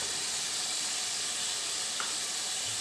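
Peas tipped into a pan of softened tomatoes for a mixed vegetable matar gajar dish set off a steady, broad sizzle that holds evenly throughout, with no talking.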